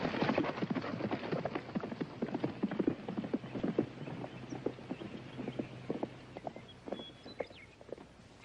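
Horse hooves clip-clopping at a walking pace in a western setting, a steady run of distinct hoofbeats fairly close, with no talk over them.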